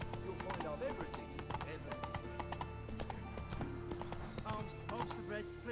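Horse hooves clip-clop in a steady trotting rhythm in The Witcher 3, with a brief whinny and game music and ambient voices layered around the close, clear footfalls.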